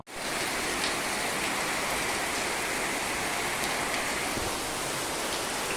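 Steady monsoon rain in Nashik falls continuously, a loud, even wash of hissing drops with no breaks from start to finish.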